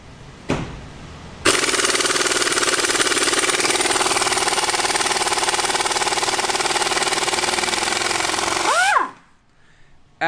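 A loud, steady pneumatic impact wrench hammering rattle, run on about 140–145 PSI shop air, continues for several seconds close up, then stops abruptly with a brief whine as it winds down.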